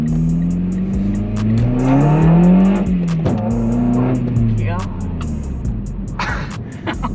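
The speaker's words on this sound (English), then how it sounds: "it sounds like a loud ass car" A Mitsubishi Lancer fitted with an Injen cold air intake revs up and down, the engine note rising and falling in loud sweeps close by, with a brief spoken word over it.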